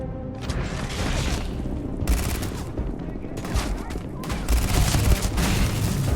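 Heavy weapons fire in modded Starfield rattles on continuously, a dense, loud barrage of rapid shots and booms layered over battle noise, with brief lulls between bursts.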